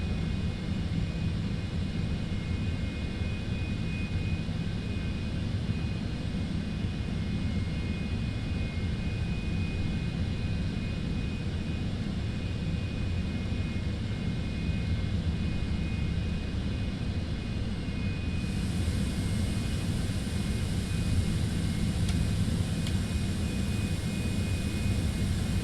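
A Cessna Citation X jet pushing back in a flight simulator gives a constant, even engine drone with a steady whine, turning slightly brighter and fuller toward the end.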